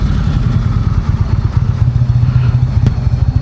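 A 2018 Indian Chieftain motorcycle with a 111 V-twin rumbles steadily while being ridden, a loud, continuous low engine throb with clattering pulses and one brief sharp click near the end, no talking.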